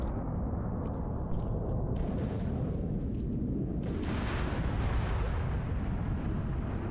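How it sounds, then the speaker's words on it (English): Bombs explode during an Arma 3 airfield assault, producing a continuous heavy low rumble with sharp blasts and crackles on top, loudest after the midpoint, with no voices. "They're really trying to bomb these two guys"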